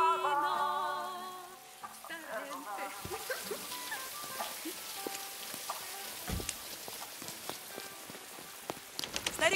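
Heavy rain falling in a steady patter of drops on surfaces, beginning after a brief musical passage and continuing with scattered louder splashes and knocks.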